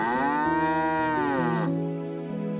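A cow lets out a single long, loud, close moo from a dairyman's village herd, with a steady low drone beneath it that trails off near the end.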